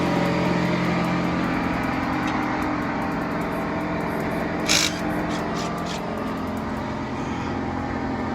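2020 Honda Rubicon 520 ATV engine idling steadily nearby, a continuous droning run with a faint repetitive knock and one brief louder clatter partway through.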